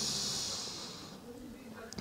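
Ujjayi breathing during a vinyasa yoga session: a long, steady hissing exhale through a constricted throat, close and fairly loud, fading away toward the end.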